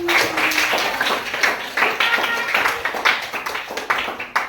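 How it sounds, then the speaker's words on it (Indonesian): Applause for group 5 in a classroom during a teaching demonstration: a dense, steady patter of many hands clapping close by, sustained for several seconds with no talk over it. "tepuk tangan untuk kelompok 5"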